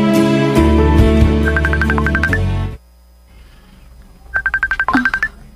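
A cellphone ringtone plays loudly in a repeating melodic burst of pulsed tones, entering after a stretch of louder music and a brief pause, with a short second round of rings.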